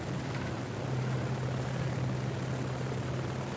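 Rescue helicopter in the Baja off-road rally video game, a steady close rotor drone with a constant low hum, heard alone.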